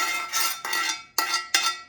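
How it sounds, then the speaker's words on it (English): A cooking utensil scrapes against a pot or dish while sloppy joes are prepared, four loud rasping strokes in steady succession, close by with no talk. "scraping noise bothers you."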